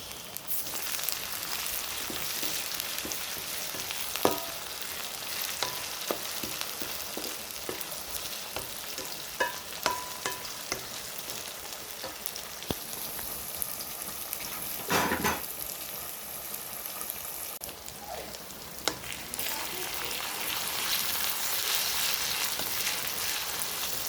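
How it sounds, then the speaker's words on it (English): Ginger and garlic paste fries with onions for a beef stew, a steady bright sizzle running throughout with scattered soft utensil taps and one louder stirring burst midway. "Onions are here cooking. Let's add in ginger and garlic paste."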